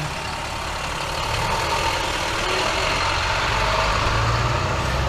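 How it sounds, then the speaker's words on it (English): A school bus engine running on a residential street on a morning walk: a loud, steady diesel rumble close by, holding a constant low drone without pauses. "There's a school bus."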